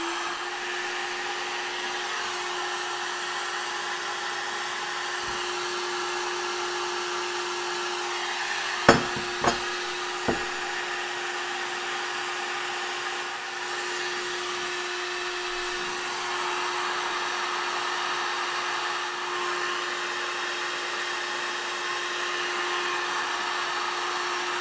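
Hot-air gun heating a part of a Pfaff model R sewing machine being stripped, a steady airy blowing hiss with an even hum, broken by a few sharp knocks midway.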